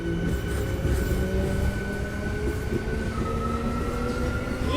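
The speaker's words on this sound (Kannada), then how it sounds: "ಈ ಮೆಮೊ ಟ್ರೈನ್ಸ್ದು ಪಿಕಪ್ ಮಾತ್ರ ಸಕ್ಕತ್ತಾಗಿರೋದು ಗುರು" A MEMU train pulls out of Bagalkot railway station on the Vijayapura to Hubballi run, its electric motors whining with rising tones over a steady rolling rumble and wheel noise, close and continuous.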